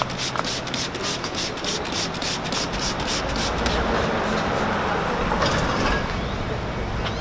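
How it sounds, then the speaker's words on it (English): Sanding a headlight on a Ford truck during restoration, a loud, steady abrasive rubbing that carries on without a break up close. "Headlight restoration."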